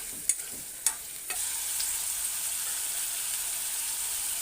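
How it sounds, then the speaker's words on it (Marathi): Green peas and paneer sautéing in hot oil in a kadai for kadai paneer: a few sharp spatula knocks at the start, then a constant close sizzle. "आणि त्याच्यासोबत आपण हे मटार पण घालायचे हे आपण तेलामध्ये परतून घ्यायचं आहे"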